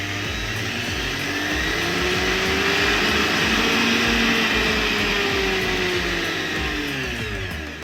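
A Hamilton Beach juicer mixer grinder runs continuously with a loud, steady high-speed whir that swells slightly in the middle and eases toward the end.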